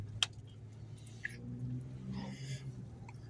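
A truck drives past on a street in McKeesport on a cold day, a low, steady rumble at a moderate distance with a few small clicks and rustles near the microphone.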